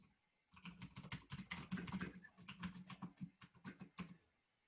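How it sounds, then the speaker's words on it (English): Rapid keystrokes on a computer keyboard during a live software demo, an irregular clatter of close, crisp taps that starts after a brief quiet moment and continues steadily to the end. "I'm typing something on my machine."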